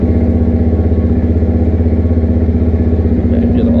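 Motrac M5 125cc supermoto motorcycle with a stainless steel exhaust idles steadily nearby, a loud, even engine throb with rapid regular firing pulses throughout.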